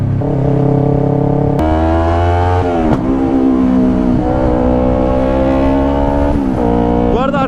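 Yamaha R25 motorcycle with an aftermarket exhaust, revving loudly and riding, the engine note climbing and dropping through several gear changes while a rider talks over it.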